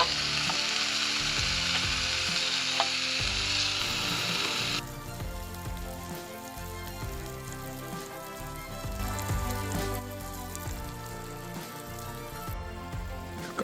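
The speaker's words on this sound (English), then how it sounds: "Got a bit of steak to cook." A beef steak fries in a pan, giving a loud, steady sizzle and spatter that carries on without a break, easing a little partway through and staying close.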